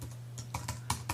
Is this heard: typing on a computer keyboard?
yes